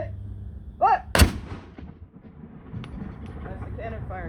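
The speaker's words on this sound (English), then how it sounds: "That's the cannon firing demonstration." An American Civil War cannon fires once with a single loud boom at a demonstration, followed by a rumbling tail as people talk and react nearby.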